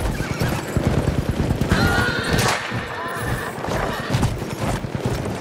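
Horses gallop with dense, rapid hoofbeats while several neighs and whinnies cut through a busy, loud battle-like din.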